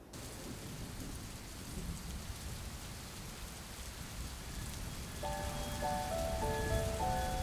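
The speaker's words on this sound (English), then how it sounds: "The effects of a cold front bring heavy rain and chilly temperatures, dropping to just 14 degrees in Taipei." Heavy rain from a cold front in Taipei pours down in a constant dense hiss with rumbling thunder underneath, while faint tonal beeps join near the end.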